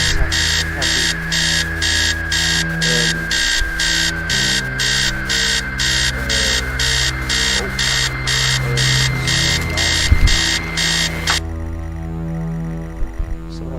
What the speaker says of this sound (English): Somehow the alarm stops.